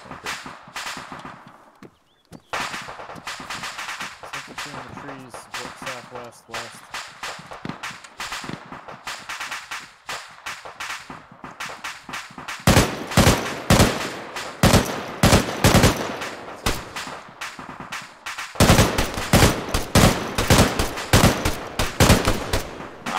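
Rapid video-game gunfire in bursts of automatic shots, sparse at first and then dense sustained volleys, loud and close, with no talk over it.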